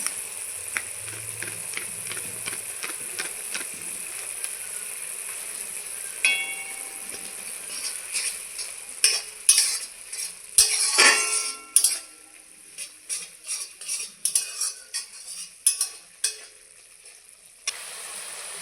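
Potato and egg curry masala, seasoned with turmeric, cumin and chili powders and salted, is fried in a pan: a quiet low simmer at first, then a run of rapid spatula scrapes and clattering stirs over a light sizzle.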